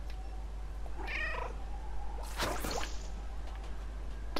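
A cat meows in the video game Stray, a short tonal call near the middle followed by a louder, harsher burst with splashy noise, set against a steady low hum.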